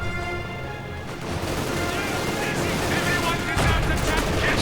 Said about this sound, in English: And immediately the anti-aircraft half-track sets about firing with its quad 50 calibers.